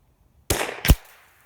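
Two sharp shots from a Ruger .22LR rifle on an outdoor range, close and loud, fired a fraction of a second apart, with a short tail after each crack.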